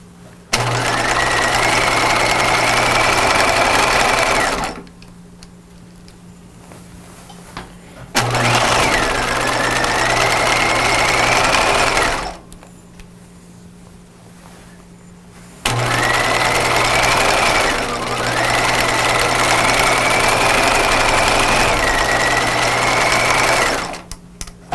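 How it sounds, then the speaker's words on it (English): A sewing machine hums loudly through three long runs of stitching on a curved pajama crotch seam, with quiet gaps between runs as the fabric is turned. "And now we're sewing around a curve in the other direction."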